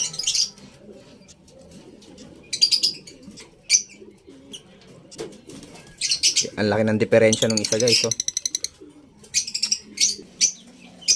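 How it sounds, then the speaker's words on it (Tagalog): African lovebird chicks in an aviary chirp in bursts of high, rapid twittering, with a louder flurry in the middle, while someone talks between the calls. "okay pa yung mga inakay ng ibon natin"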